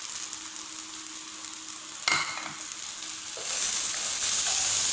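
Finely chopped tomatoes frying in a pan for an arvi curry sizzle softly at first, then a stirring clink sounds and the hiss swells louder and holds steady.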